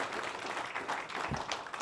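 Audience applause at a panel event fills the room with a steady wash of clapping, moderately loud and continuous with no voices over it.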